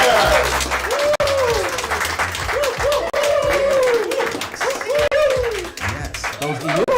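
Open mic audience at the Nuyorican Poets Cafe gathering at the Loisaida Center applauding steadily for about seven seconds, a dense wash of clapping mixed with whoops, cheers and shouted calls from the crowd.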